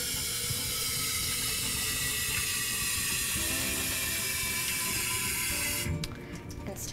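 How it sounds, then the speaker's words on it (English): A baby bottle being scrubbed inside with a brush in hot soapy water at a sink, heard as steady close running-water hiss and splashing that thins out near the end. "When you wash your bottles, you want to make sure you use hot, soapy water"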